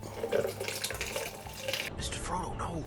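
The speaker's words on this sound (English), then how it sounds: "let's get these flowers strained out" Flower-infused heavy cream pours and trickles through a strainer, a continuous liquid splashing and dribbling that is close and moderately loud, with a voice talking over it.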